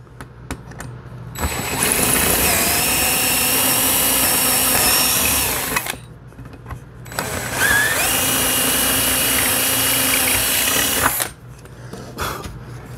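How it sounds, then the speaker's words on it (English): A power drill boring quarter-inch holes through the seat of a P-51 pedal plane kit, two long loud whining runs a few seconds each with a short quiet pause between, up close with no talking. "Drill a quarter inch hole"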